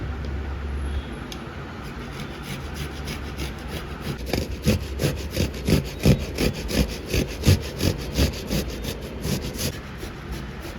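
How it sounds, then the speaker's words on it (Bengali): A ripe tomato rubbed against a metal hand grater in a home kitchen, giving a quick run of rhythmic rasping strokes that grows louder midway and continues steadily, close and without talk. "এই টমেটোটা যে কেটে রেখেছিলাম, এটাকে এখন চলো ঘষে নেব এই ঘষনির সাহায্যে।"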